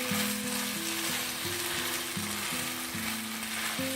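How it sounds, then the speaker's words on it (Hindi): Okra sizzles steadily in oil and tomato masala on an electric stove while a utensil stirs it through, the close, even frying hiss broken by repeated soft scraping strokes in a regular rhythm, with no talk. "अब हम इसमें भिंडियाँ डाल देंगे और भिंडी डालने के बाद आपने इसको"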